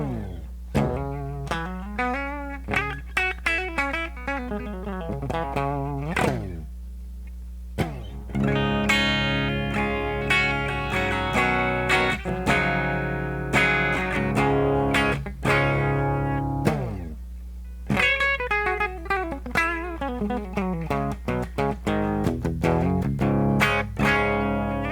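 Clean electric guitar played through a Boss Katana amp on its clean channel with all controls at noon, recorded directly into an audio interface; plucked notes and ringing chords sustain across a continuous passage.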